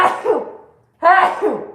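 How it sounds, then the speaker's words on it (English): A woman sneezes twice in quick succession, two sharp, close bursts separated by a brief pause. "she's sneezing"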